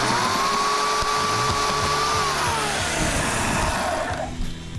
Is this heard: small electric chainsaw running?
yes